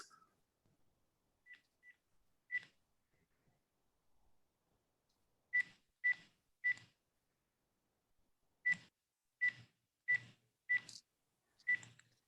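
Telephone dialing tones sound faintly, a scattered series of short electronic beeps in uneven clusters with quiet gaps between them.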